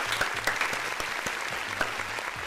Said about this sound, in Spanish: Un aplauso, espérate, cuidado.